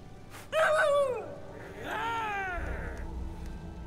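A dog character in the video game Space Tail howls: two short, wavering, pitch-bending cries in the foreground over a quiet background hum.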